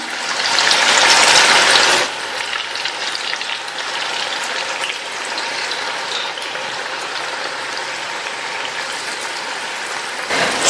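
Pakoda dough fries in hot oil in a kadai, a loud burst of sizzling as the batter drops in, then settling into a steady softer crackle.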